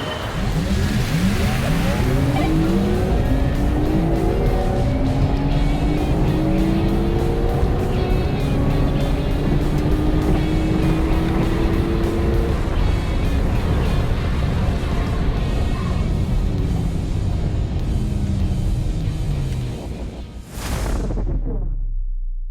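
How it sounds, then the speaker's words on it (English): Cabin view of a Porsche Taycan 4S drag racing a Porsche 992 Carrera: a loud, sustained launch with rising and falling whine-like tones under heavy road roar, ending in a quick whoosh. "We are back in the Taycan 4S, and we're lined up against the 992 Carrera"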